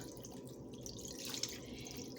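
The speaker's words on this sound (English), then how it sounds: "me pouring the pickle juice over these pork chops" Pickle juice poured over pork chops in a kitchen, a faint, steady trickle and splash of liquid with a few small drips, quiet and close, with no one talking.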